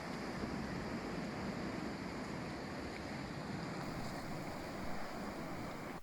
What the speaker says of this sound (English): the local beach, where you can get out and walk in the sand and enjoy some sea air